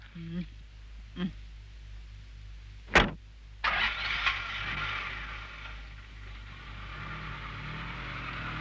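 A car on a street approaches from a distance and passes close by with a rising engine and tyre roar, after a sharp thump, over steady low traffic rumble.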